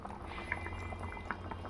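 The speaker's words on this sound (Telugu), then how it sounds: "సూప్ మరుగుతుంది." Fish curry broth simmers on a low flame, giving a soft, continuous bubbling with small scattered pops, fairly faint and close, with no talking.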